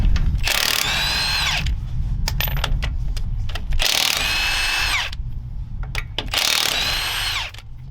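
Ratcheting tool work while mounting the spare tire on a RAM 2500 Power Wagon truck: three loud bursts of rapid mechanical ratchet clicking, separated by shorter clicks and clanks over a steady low rumble, close by with no talk.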